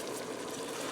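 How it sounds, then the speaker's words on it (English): Beef broth and paprika being stirred into browned ground beef and bacon in a Ninja Foodi, a steady soft sizzle and scrape running throughout, close and moderately loud, with a brief louder knock at the very end. "stirring that in"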